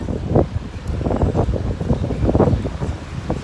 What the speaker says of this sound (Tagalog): Sobrang hangin ngayong araw.